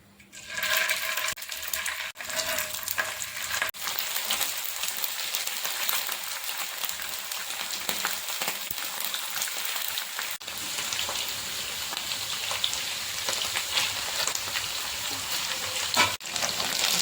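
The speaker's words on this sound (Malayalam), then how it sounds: "ഞാൻ പാനിലേക്ക് ആവശ്യത്തിന് ഓയിൽ ഒഴിച്ചു കൊടുക്കുന്നുണ്ട് നമുക്കിതിലേക്ക് ചിക്കൻ ഇട്ട് കൊടുക്കാം" Chicken pieces frying in oil in a pan for Kerala-style chilli chicken, a steady loud hiss and crackle of sizzling that carries on for the whole stretch with no voices.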